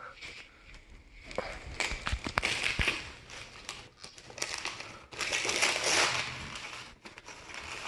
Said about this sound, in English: I remember half the fun is ripping the paper though